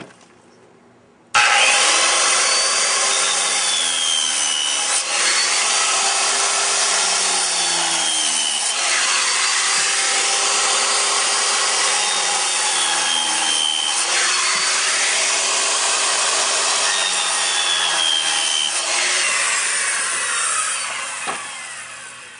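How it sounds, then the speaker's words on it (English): A blade scoring into the surface of plywood during concrete wall form preparation, a steady, close, continuous rasping cut lasting about twenty seconds with rhythmic sweeping variations, alone without talk. "all we're going to be doing is slicing into the surface of the plywood with the blade"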